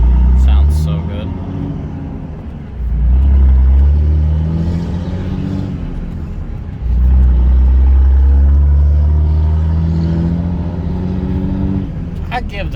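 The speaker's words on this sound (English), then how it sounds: "I'd give the truck anywhere from an 1/8 to 1/4 throttle and let it do its thing." A 2003 Ram 2500 Cummins diesel pickup with a 6-speed, heard from inside the cab, pulls through the gears at light throttle. Its deep, loud engine rumble climbs in pitch, drops at a shift, then climbs again.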